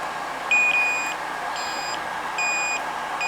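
Electronic beeping from a battery checker in three short bursts of high tones, evenly spaced, sounding close and fairly loud over a low background hum, warning of a low cell at 3.44 volts.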